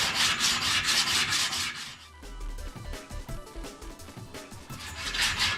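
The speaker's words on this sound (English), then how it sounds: "Just some 80 grit on a hard block." Someone sands a wooden skateboard edge with 80 grit sandpaper on a hard block, giving rhythmic back-and-forth scratchy rubbing strokes that are close and fairly loud, with a brief lighter pass in the middle.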